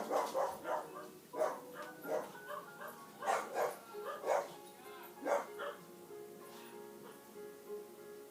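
Several dogs bark indoors in a house, about a dozen sharp, moderately loud barks and yips in an irregular run, some overlapping, with a whimper between them.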